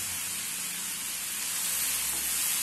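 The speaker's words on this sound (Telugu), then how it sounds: "వీటికి అన్నిటికీ కూడా మనం సాల్ట్ పట్టేటట్టు బాగా కలుపుకుందాం." Drumstick (moringa) gravy being stirred with salt in a frying pan gives a steady, close, loud sizzle with soft scraping, continuous for the whole stretch and with no talking.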